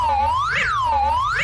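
A loud, continuous electronic alarm tone of the kind used for emergency alert broadcasts sweeps repeatedly up and down in pitch with bright harmonics, steady and alone throughout.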